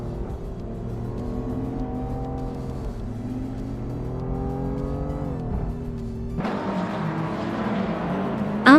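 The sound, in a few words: 1986 BMW M3 E30 race car engine, video game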